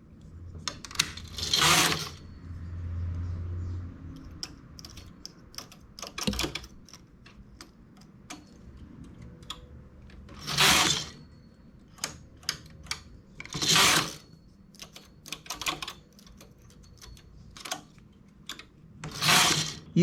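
Knitting machine working a one-shoulder blouse, the carriage sweeping across in several loud rasping passes separated by quiet pauses full of small clicks and handling noises.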